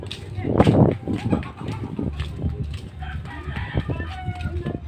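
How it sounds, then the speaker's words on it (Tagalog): A rooster crows loudly near the start amid clucking chickens and outdoor street noise. "manok sa kalsada"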